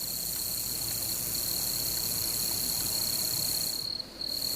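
A massasauga rattlesnake's rattle gives a steady, thin, high buzzing that sounds like crickets, continuous and fairly faint, with a brief dip near the end.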